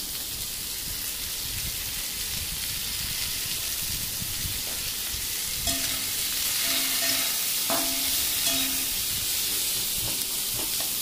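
Sliced onions frying in hot oil in a pan for a village-style drumstick curry, a steady bright sizzle with intermittent scraping stirs from a spoon in the second half.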